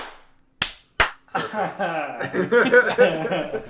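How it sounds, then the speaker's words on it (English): Two sharp, close hand claps about half a second apart, each a brief crisp snap, followed by people talking and chuckling. "Should we do a 1, 2, 3 clap? No, it's just a clap."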